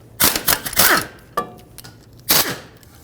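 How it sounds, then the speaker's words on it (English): A 13mm socket on a tool loosens the rear caliper mounting bolts on a 2015-2020 GMC Yukon, with several loud, close bursts of harsh mechanical rattling, three clustered together, then a short one and a final burst, no voices. "Use a 13mm socket to remove both of these mounting bolts that hold the caliper onto the"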